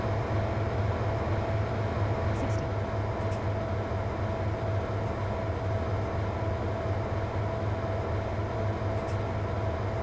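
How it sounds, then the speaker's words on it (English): BR Class 55 Deltic six-axle diesel locomotive in Train Sim World, a steady heavy engine drone with a low rumble and a constant tone, continuous and loud from inside the cab. "It's a six-axle locomotive."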